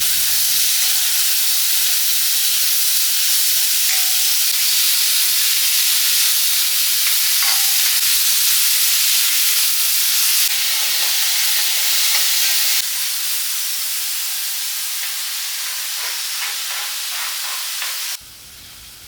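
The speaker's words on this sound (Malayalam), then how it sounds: "ചട്ടിയിൽ വെളിച്ചെണ്ണ വാർന്ന് ഒക്കെ ചൂടായി നമ്മൾ ഇതാ വഴറ്റി എടുക്കാം" Loud, steady sizzling hiss of garlic and ginger paste sautéing in hot coconut oil, continuous and close, easing slightly toward the end.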